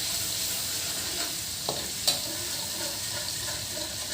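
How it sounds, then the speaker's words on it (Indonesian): Zuppa soup base sautéing over medium heat, a continuous bright sizzle with a couple of soft utensil scrapes and taps while it is stirred to keep lumps from forming, close and steady, no talking. "Ini aku tumis dulu, aku aduk-aduk dulu biar tidak menggumpal"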